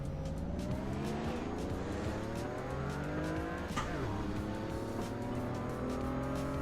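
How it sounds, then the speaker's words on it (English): A 1978 Porsche 930 911 Turbo races at Sebring in a racing game, its engine droning loud and steady with rising and falling pitch sweeps through gear changes, a brief tire squeal or passing burst midway. "So we're now in the 1978 Porsche 930"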